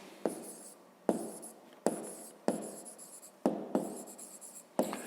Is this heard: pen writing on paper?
yes